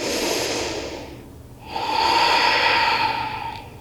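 Slow, deep breathing during a yoga forward fold, heard close and clear: a long airy exhale, a short pause, then a steady inhale, with no one talking.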